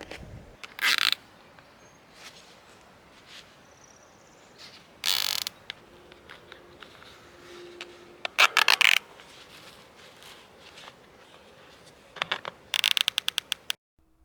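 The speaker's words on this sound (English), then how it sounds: "then I'm going to zip tie those on here just to make sure that they don't get pulled off or wind blown" Zip ties being cinched around a cattle panel greenhouse frame give short, sharp ratcheting zips, several spaced bursts against a quiet outdoor background, the last a quick rapid string of clicks, with no talking.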